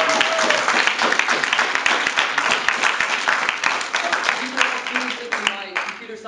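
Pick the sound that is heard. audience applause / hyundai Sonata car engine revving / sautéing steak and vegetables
audience applause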